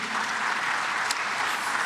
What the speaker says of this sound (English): Ladies and gentlemen, please round of applause for Prof and my panelists.